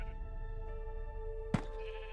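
A single sheep in a farming video game bleats once with a short, sharp cry over a constant background hum and musical drone.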